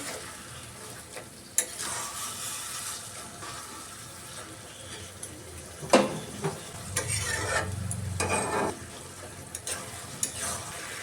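Boiled potato and banana flower, earlier cooked with turmeric, are stirred with spices in a pan, producing scraping and soft wet stirring strokes with a few louder scrapes over a low, continuous background.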